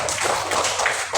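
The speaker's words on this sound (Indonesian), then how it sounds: "Kasih tepuk tangan untuk semuanya." A classroom of students applauding together in a brief, dense patter of clapping that lasts only a moment.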